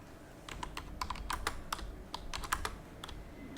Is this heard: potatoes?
no